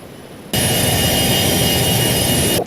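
A Cessna Citation 560XL business jet taxis at Edinburgh Airport after landing. Its jet engines spool up abruptly into a loud, steady roar with a piercing high whine that holds to the end.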